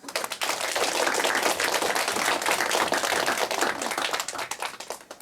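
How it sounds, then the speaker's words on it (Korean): An audience at a school lecture event applauds to welcome a speaker, a steady patter of many hands clapping at close range, rising quickly and holding even before tapering off at the end. "큰 박수로 맞이해 주십시오."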